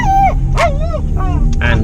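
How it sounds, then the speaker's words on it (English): Three excitable dogs in a car, whining, whimpering and letting out short yips and barks in quick, overlapping bursts, loud and close inside the vehicle. "I've got 3 very excitable dogs in my car."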